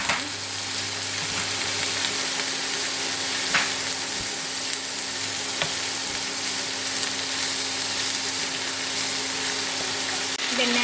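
Snake gourd poriyal sizzles as it is stir-fried in a pan, a steady close frying hiss under a low hum, with occasional clicks and scrapes from stirring.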